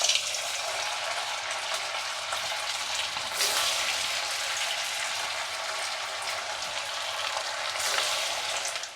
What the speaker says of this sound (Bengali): এবার এগুলোকে ভাজবো।